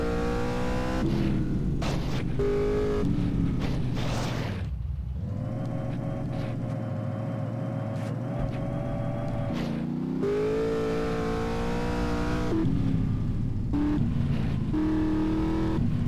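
A car speeding in GTA San Andreas, a continuous loud engine drone rising and falling in pitch through gear shifts and revs for the whole stretch, with no talking.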